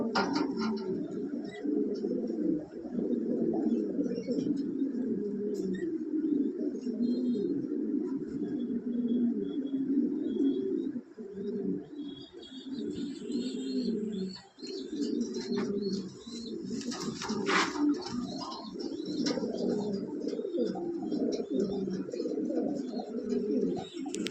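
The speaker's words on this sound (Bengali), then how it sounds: "অনেক বড় সাইজের জাম্বু সাইজের কবুতর" A pair of large, jumbo-sized black Lahori pigeons at a pigeon farm coo in repeated low, throaty rolls, close and continuous, with a few faint chirps and brief wing flaps.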